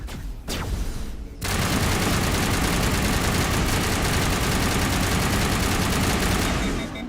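A loud, continuous roar of rapid automatic gunfire fills nearly the whole stretch after a short quieter opening, dense and unbroken, in the video game Mass Effect Legendary Edition.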